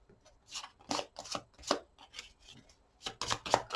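Tarot cards are shuffled by hand in quick irregular riffles and slaps, close and fairly quiet, with no talking.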